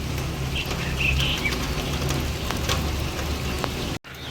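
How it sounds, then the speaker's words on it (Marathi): Steady rain falling outdoors, a dense, loud, continuous patter with faint bird chirps in the background and a brief dropout near the end. "पाऊस चालू आहे"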